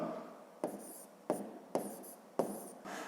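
Pen writing numbers by hand in a fifth-grade math exercise, with four quick stroke bursts at steady intervals, close and fairly quiet, with no talking.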